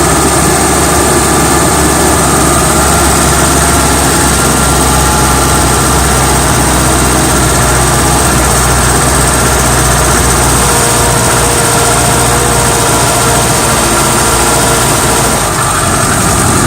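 A Suzuki 4WD engine runs steadily, revved a little, with a loud, continuous low rumble and droning hum, holding a fairly even pitch throughout.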